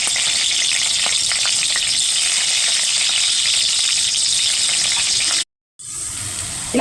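Two green chillies frying in hot oil with cumin and mustard seeds, a loud, dense sizzle with constant crackle that runs unbroken, cuts out briefly, then resumes.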